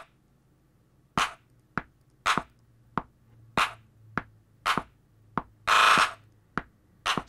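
A hip hop beat built from a clap sample: sharp, dry clap hits land one after another at a steady bouncing pace, separated by near silence over a faint low hum.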